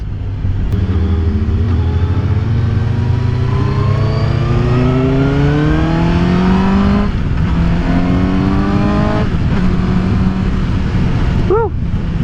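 A 2018 Suzuki GSX-S750 motorcycle engine pulls hard during a ride, its loud, close drone rising in pitch through the gears with brief dips at each shift and wind rush behind.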